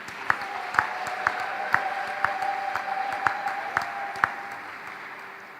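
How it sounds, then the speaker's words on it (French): Wedding guests clap for the couple in a steady, evenly spaced rhythm of sharp claps. A sustained tone hangs underneath, and the sound stays moderately faint throughout. "Sous nos acclamations, bien sûr."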